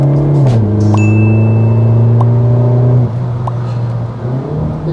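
Engine of an Alfa Romeo Giulietta QV, its note boosted through the cabin speakers by the QV Engine Sound system, drones loudly from inside the car with steady revs that dip and shift twice.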